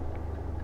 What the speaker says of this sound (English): I think that is the noisiest truck that has ever driven by.